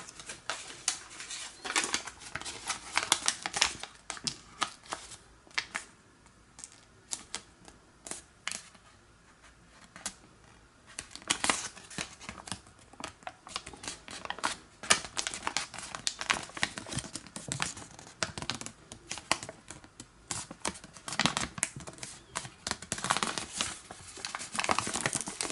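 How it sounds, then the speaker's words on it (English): Paper being folded and creased by hand for an origami cross bookmark, with close, soft crinkles, taps and rustles that come in an irregular, continuous patter at low volume. "we're going to fold this edge to this crease here."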